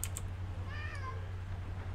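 A pet cat named Jasper gives a drawn-out meow of about half a second, mid-loud over a steady low hum, with faint clicking like keyboard typing nearby.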